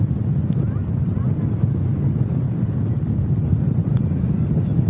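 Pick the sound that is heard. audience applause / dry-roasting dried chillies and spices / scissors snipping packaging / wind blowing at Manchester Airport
wind blowing at Manchester Airport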